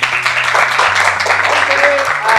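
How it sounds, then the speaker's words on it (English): A classroom of students claps their hands together, a busy crackling patter of applause over a background of sustained musical tones and faint voices. "everybody clap your hands"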